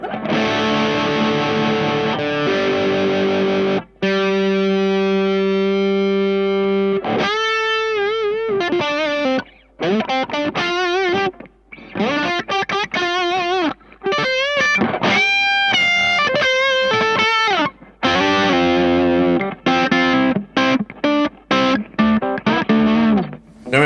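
A heavily distorted electric guitar through an IK Multimedia X-Drive amp simulator plays loud, punchy chords and fast riffs with vibrato bends, stopping and starting in bursts, with no voices.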